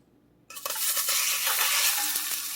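Sudden loud sizzling as meat hits a hot pan of hot oil, a dense steady crackle and hiss that continues without pause.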